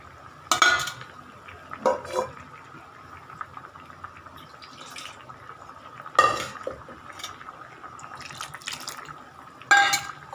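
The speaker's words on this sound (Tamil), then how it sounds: "இப்போ நம்ம பருப்பு ஊற்றி போடுவோம்." Lentils are poured into a pot of cooking okra on the stove, bringing brief bursts of splashing and stirring scrapes separated by quieter simmering, close by and with no talking.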